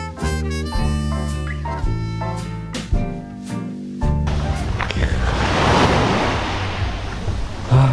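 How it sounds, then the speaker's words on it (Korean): Waves breaking on a beach in Bali swell into a broad, loud rushing wash that takes over after a stretch of clear melodic tones, surging and receding steadily. "이 부서지는 파도 소리가"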